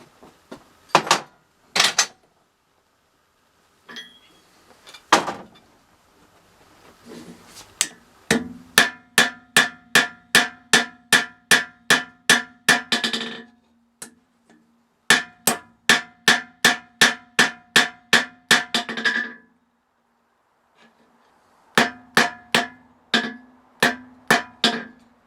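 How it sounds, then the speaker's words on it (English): Repeated hammer blows on a forge-welded tomahawk bit, fired in fast, evenly spaced bursts of sharp metallic strikes with short pauses between runs, loud and close. "So let's hammer on this and see if it comes apart."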